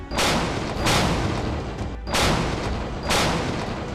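Naval guns firing during training: three loud, heavy booms about a second apart, each with a broad blast and a short rolling tail, close and forceful.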